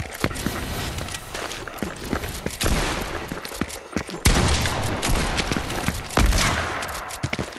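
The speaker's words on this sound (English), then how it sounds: "I accidentally shotgunned you, not meaning to." Repeated sharp shotgun blasts go off in a video game, several loud, irregular bangs spread over a few seconds among rapid footsteps and other clattering game sounds.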